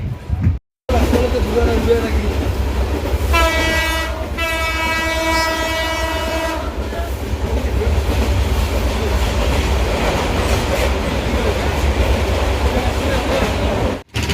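A train runs loudly on the rails with a steady rumble, and its horn blares for a few seconds early on.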